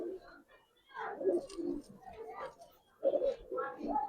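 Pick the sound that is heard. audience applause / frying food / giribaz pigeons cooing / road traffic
giribaz pigeons cooing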